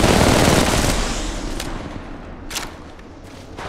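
Rapid automatic gunfire in the mobile shooter Apex Legends Mobile starts as a dense, loud volley, thins out, and leaves a few sharp, separate shots cracking near the end.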